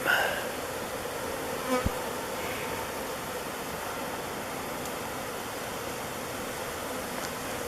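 A steady, dense insect buzz fills the air, like many bees swarming close by around a hive, continuous and even throughout with no talking.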